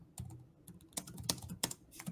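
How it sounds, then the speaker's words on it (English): Quiet, close typing on a computer keyboard in an office, a burst of irregular clicky keystrokes and spacebar taps with short pauses between. "I'm typing in some notes here."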